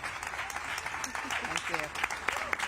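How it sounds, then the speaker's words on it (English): Audience applause for a panel discussion on cancer science and equity, steady clapping from a crowd that carries on throughout, with voices speaking over it. "can we give this amazing panel just a huge round of applause?"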